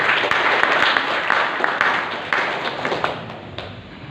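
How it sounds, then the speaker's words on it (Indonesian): An audience applauds speakers at a talk session, with dense, close clapping that stays steady and loud and then tapers slightly toward the end. "Aplaus buat Mas Yoko dan Sony"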